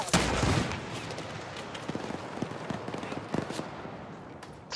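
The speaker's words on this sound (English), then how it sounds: "Somebody shot me in the back." Gunfire in the Arma 3 military shooter game: a loud burst at the start, then scattered shots and short cracks of varying distance over a steady battlefield background, with a sharp report at the very end.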